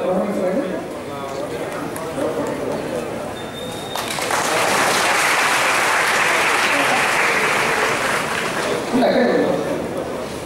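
Audience applauding at an event with the district collector and police superintendent and Yanadi boys and girls. Dense clapping runs through the whole stretch, loud and close, and swells louder after the first few seconds, with voices in the crowd.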